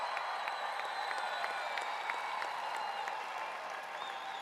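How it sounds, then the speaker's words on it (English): A basketball crowd applauds a rookie's record-setting defensive rebounding milestone, a sustained patter of many hands clapping at moderate distance that slowly fades toward the end. "I was wondering why everyone was clapping"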